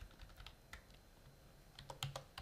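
Quiet keystrokes tap on a computer keyboard in a Word 2010 document, a few scattered clicks followed by a quick cluster near the end, close and soft.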